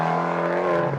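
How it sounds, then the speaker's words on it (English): A Fiat 500 Abarth subcompact's turbocharged engine blips its throttle, the exhaust note a loud, close, steady droning growl with strong low harmonics that holds through the whole second. "what is up with that exhaust note? That is exhaust porn."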